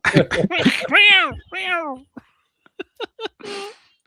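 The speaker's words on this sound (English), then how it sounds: "Oh, he's just meowing." A cat meows several times, drawn-out and wavering, followed by short clicks and a final brief meow-like sound, close by.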